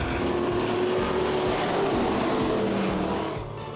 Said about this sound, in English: start your engines if you would